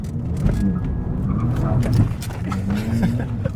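Abarth 595 car engine hums and shifts in pitch during a U-turn, a close, moderately loud drone heard under ongoing conversation inside the car.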